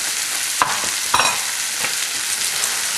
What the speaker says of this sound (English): you saute the chickpeas and the black beans, the garlic and the shallot in the oil